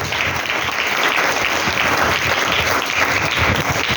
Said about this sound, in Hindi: कृपया सभी के लिए जोरदार तालियां।